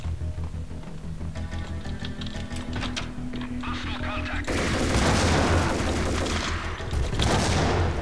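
Gunfire in Max Payne, scattered shots and clatter at first, then a loud sustained barrage of dense firing and blasts through the second half, with a voice talking under it.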